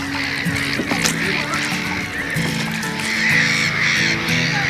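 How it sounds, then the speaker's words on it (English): Geese honk repeatedly over a busy chorus of other birds, a steady outdoor din with overlapping calls near and far, heard from a small sailboat at anchor. "Well, you could probably hear all the birds"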